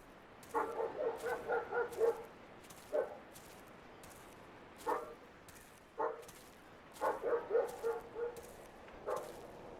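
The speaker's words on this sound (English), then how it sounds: "We got some loud dogs who need to shut the fuck up." Several dogs bark loudly at a distance, bursts of rapid yapping barks alternating with single barks in an irregular rhythm over quiet outdoor background.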